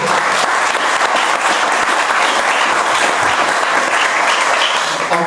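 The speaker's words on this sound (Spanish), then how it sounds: "y pido un aplauso para el libro 105" Audience applause at a book presentation, dense steady clapping from a crowd filling the room at even loudness throughout.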